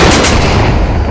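Rocket launcher fired in the Onward VR shooter game, a single very loud, close blast filling the whole short moment with a dense, sustained roar, no voices.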